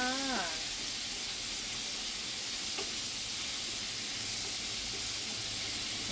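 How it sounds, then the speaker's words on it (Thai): Chicken giblets and beans stir-frying in a small pan in a condo kitchen, a steady broadband sizzle and hiss running throughout, with a brief tonal squeak at the start. "ไปผัดให้มันเข้ากันนะคะ แล้วเราก็ผัดให้เข้ากันเลยค่ะ"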